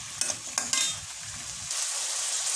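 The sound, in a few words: stirring vegetables with turmeric powder in frying pan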